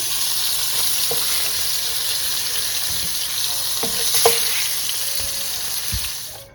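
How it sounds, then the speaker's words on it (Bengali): Fish frying lightly in a pan gives a steady, close, broadband sizzle with a few scattered clinks and stirring taps, no talking. "মাছটা আমি হালকা ভেজে নিয়েছি"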